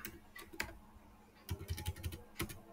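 Computer keyboard keys clatter as code is typed during pandas data analysis, with a few scattered taps and then a quick run of clicks, close and fairly quiet.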